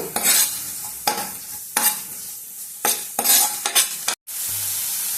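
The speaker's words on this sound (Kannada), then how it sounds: "ಅದಾದಮೇಲೆ ಚಕ್ಕೆ ಮೊಗ್ಗು ಮತ್ತು ಈರುಳ್ಳಿ. ಇವಾಗ ಚೆನ್ನಾಗಿ ಫ್ರೈ ಮಾಡ್ಕೊಳ್ಳೋಣ" Cinnamon, cloves and onion frying in a pan for dhaba-style paneer bhurji, with repeated bursts of sizzling scraping as a spoon stirs, a brief cutoff near the end, then a quieter steady sizzle.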